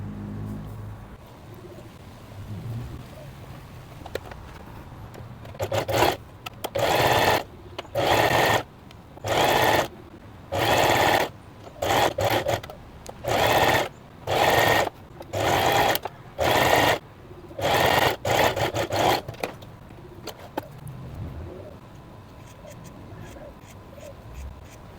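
A sewing machine stitches a seam about 4 mm from the edge on an open-back dress, with the fabric folded right sides together. It runs in roughly eleven short, even bursts separated by brief pauses, close and clear over quiet room tone.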